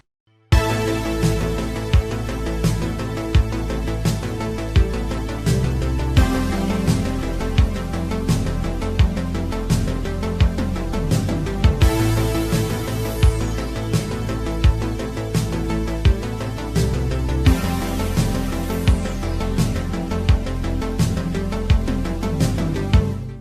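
Synthesizer chords play in a full arrangement with other synth parts and regular percussive hits, a dense, loud and steady mix with shifting chord changes and no voice.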